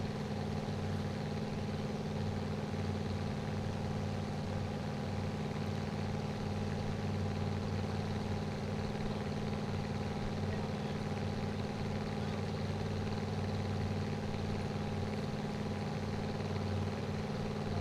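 A race car engine idles steadily at around 2,500 RPM during a red flag at a youth fullsize short-track race, a continuous even drone held for the whole stretch with no talk.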